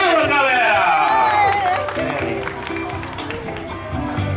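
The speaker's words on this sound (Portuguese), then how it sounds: "Uma salva de palmas, galera!" A lively crowd at a grandmother's birthday party in Penha claps and cheers together, loud and close, with voices and whoops mixed into the sustained applause.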